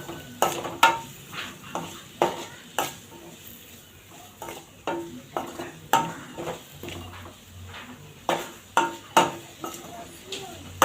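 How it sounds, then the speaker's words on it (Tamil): A spoon stirs spice masala into rice in a pan, making sharp, irregular clinks and scrapes against the metal every second or so over a faint background sizzle. "இப்போ நம்ம எடுத்து வச்சுருக்க மசாலா எல்லாத்தையும் ஆட் பண்ணிக்கலாம். சேர்த்துட்டு நல்லா கலரி விட்டுக்கலாம்."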